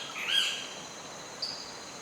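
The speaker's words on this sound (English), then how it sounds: "Shorebirds and wading birds feed at the river's mouth." Shorebirds and wading birds at a river mouth in Costa Rica give a couple of faint, thin calls, one early and a brief chirp later, over a quiet low ambient hiss.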